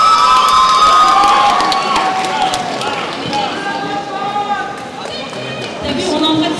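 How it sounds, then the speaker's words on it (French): A crowd at a manga festival contest cheers and shouts loudly, with excited children's voices and scattered clapping forming a continuous lively din. "On l'applaudit encore une dernière fois."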